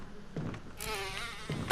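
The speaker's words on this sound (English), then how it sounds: "Like I said, bees." Bees buzzing in Resident Evil Remaster, a steady insect drone that swells midway and holds, heard alone without talk.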